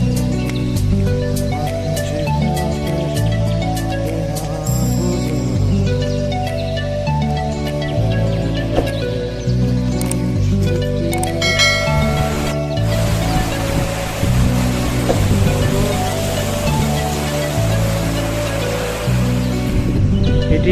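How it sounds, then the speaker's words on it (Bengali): A waterfall stream at Wadi Darbat in Salalah rushes in a continuous, loud broadband wash, close and steady, with a brighter splashing surge in the latter half. "পাহাড়ের এই অশ্রুধারার যে আওয়াজটা, এটা আসলে নিজেকে অনেক মুগ্ধ করে দেয়।"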